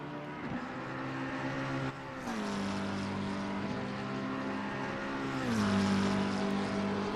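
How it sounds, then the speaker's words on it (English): A McLaren race car lapping Silverstone during free practice in a sim racing game, its high engine note holding steady, then dropping and climbing through gear changes, loud and alone throughout. "Trixit out in the McLaren here in free practice"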